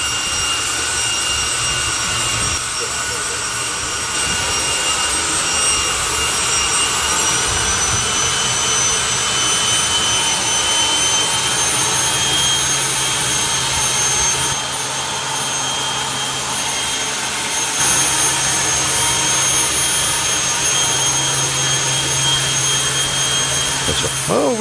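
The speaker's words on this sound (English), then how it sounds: "the van will exit stage right as Martin Hill will get ready to come forward and start the Afterburner show" A jet-powered drag racer in an Afterburner show at a drag racing finals event gives off a constant, loud jet roar and whine that holds steady throughout, with no speech over it.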